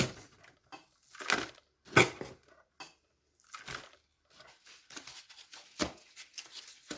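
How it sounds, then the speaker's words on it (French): Good soil being tipped into a worm composting bin, heard as a series of soft crunching, crumbling pours with short pauses between scoops, close and fairly quiet. "Donc on va mettre tout d'abord de la terre, de la bonne terre."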